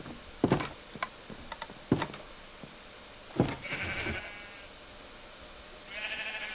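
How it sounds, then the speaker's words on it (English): Minecraft sheep in a farm pen bleat a few times, short close-up baas with a couple of soft knocks and game clicks between them and no voices. "One sheep of every color."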